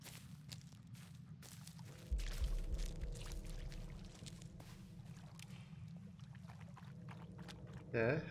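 Water pours and sloshes in Blair Witch over a low ambient forest drone, with soft footsteps and rustling around it and a brief louder splash near the end.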